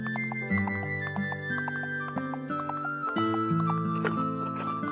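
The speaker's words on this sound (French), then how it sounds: "Les chevaux entrent dans leur nouvelle maison." Cartoon horses walk into a new stable in a children's animation. Light hoof clip-clops and a neigh sit under cheerful background music at a steady pace.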